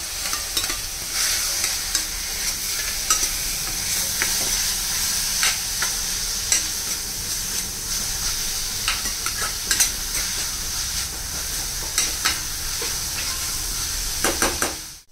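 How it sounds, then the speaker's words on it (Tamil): Chopped vegetables and carrot sauté in a hot pan, giving a steady loud sizzle and hiss with occasional scraping stirs, close up and without talk. "அவனோட கேரட்டையும் சேர்த்து ஃபர்ஸ்ட் இதை நல்லா வதக்கினதுக்கு அப்புறமா கடைசியாக வந்து நம்ம தக்காளி ஆட் பண்ணால் போதும்"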